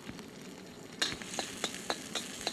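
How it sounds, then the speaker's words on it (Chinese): Scallion and ginger stir-frying in a tablespoon of oil in a wok, a faint, steady sizzle broken by a few sharp scraping and tossing clicks of the spatula, with no talk. "然后呢就用1汤匙的油来炒葱姜"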